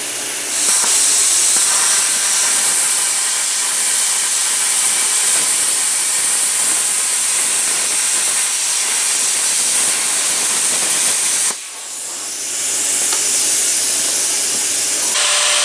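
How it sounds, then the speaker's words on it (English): A full weld laid down to fix a metal piece onto the surface of a homemade metal Buster Sword replica, heard as a loud, continuous close hiss that breaks off briefly near the end, then resumes. "so I will do a full weld right there"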